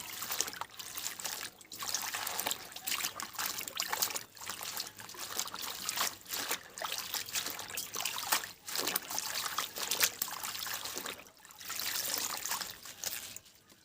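Cold tap water runs steadily while greens are washed, a continuous close trickling and splashing stream with small fluctuations and no voices.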